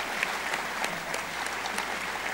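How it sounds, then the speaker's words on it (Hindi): A crowd at an air force stage show claps to welcome a speaker, a steady, moderately distant wash of applause that holds evenly throughout. "आपकी भरपूर तालियों में इस्तकबाल कीजिए"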